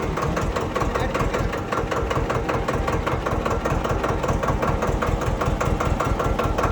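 A tractor engine idles steadily after starting, a close, loud, even mechanical chug with a rapid regular pulse and no pauses while it is put into reverse gear.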